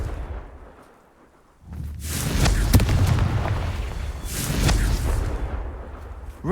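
A Confringo blasting spell explodes in Hogwarts Legacy, a deep rumbling boom that swells after a quiet moment, then rolls on with a second surge.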